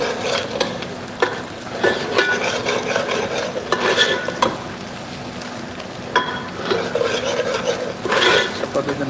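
Chopped onion goes into a hot pan for kadhi and gets stirred, a steady scraping and rasping with a soft sizzle underneath, repeated sharper strokes of the spoon across the pan, close and fairly loud with no talking.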